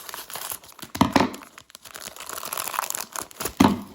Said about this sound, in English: So as I clear a couple of these cellophane pieces away, and we move to the next rack pack here.